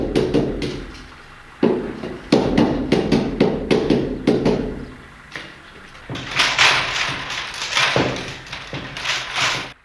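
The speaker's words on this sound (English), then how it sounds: "The weavers use a multi-purpose tool to bend the base rods and also to tap the weave tight." Sharp, repeated tapping knocks in irregular bursts, some loud and close, others in quicker runs, with brief quiet gaps between groups, as a metal weaving tool taps a wicker basket's weave tight in a traditional German basket workshop.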